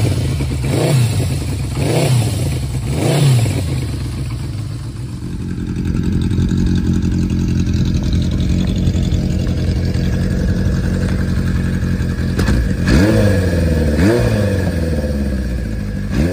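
Benelli Quattro 500 and Honda CB500 Four motorcycle engines rev in repeated rising bursts, then settle into a loud steady drone before another pair of revs near the end.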